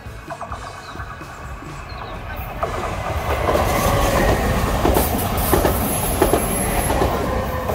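A train passes near a path in the Gorges de l'Areuse gorge, rumbling louder as it approaches, with rhythmic clickety-clack of wheels on rails and a brief high wheel squeal, steady and close.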